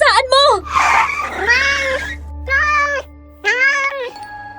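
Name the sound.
black cat meowing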